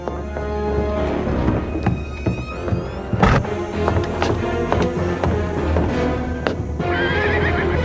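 Several horses whinny and neigh close by while their hooves clip-clop and stamp, with a sharp knock partway through, busy and loud throughout.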